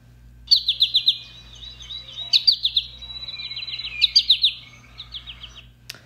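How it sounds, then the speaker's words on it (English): A male American goldfinch gives repeated bright, twittering call phrases in bursts, clear and fairly close against a quiet background. "you might be seeing a male goldfinch"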